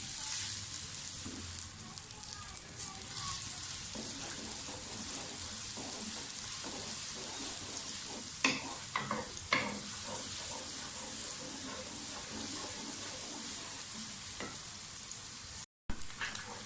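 Onions sauté in a pan with a steady, soft frying hiss and occasional stirring scrapes, fairly faint and close, with no voices.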